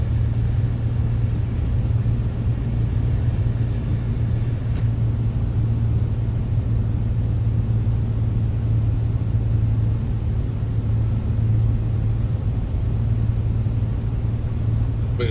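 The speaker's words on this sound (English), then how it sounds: "You can hear the wind going over the gear." Steady wind rush over the lowered landing gear of an A2A Comanche 250 in a flight simulator, a continuous airy roar blended with low engine drone that stays even and unbroken throughout, with no talking.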